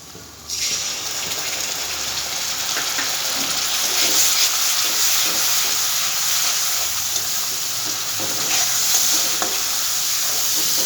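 Tomato paste fries in a pan of spice mix for a vegetarian dhokar dalna, a loud continuous sizzle with steamy hiss and occasional stirring scrapes, close and steady with no talk.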